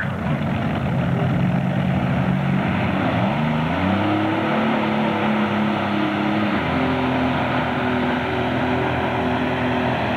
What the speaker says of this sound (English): let's see what the two V-12 Allison aircraft engines can do